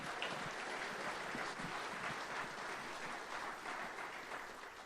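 Another round of audience applause for Jeff Lynn at a high school sports awards ceremony, a continuous even patter of many hands, moderately distant and soft.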